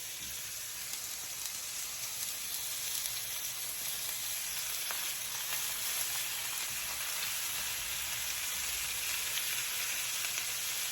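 A salt-and-pepper seasoned steak sizzles in a hot pan. The sizzle is a steady, dense hiss that holds for the whole stretch, with faint crackles and no talk.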